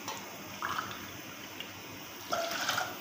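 Water is poured into a pan for a sweet drink recipe, a soft splashing stream in two short bursts over a quiet kitchen background.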